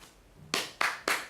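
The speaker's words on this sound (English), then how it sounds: "Or let's say an applause." Three sharp, close hand claps land about a quarter second apart after a brief quiet lead-in, each a crisp slap with a short decay and no talk around them.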